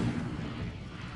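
An Incendio fire spell cast in the video game Hogwarts Legacy, a dense low whooshing roar that stays steady for just over a second with no voices.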